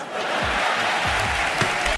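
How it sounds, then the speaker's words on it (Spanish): Dense applause from a crowd in the stands at a face-off event, a steady wash of many hands clapping, loud, with some low voices mixed in before it cuts off abruptly. "Ha dejado las drogas. Un aplauso."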